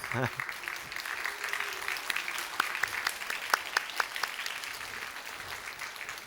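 A church congregation applauding during a Korean worship service, an even wash of many hands clapping at moderate distance, with a few sharper individual claps standing out near the middle.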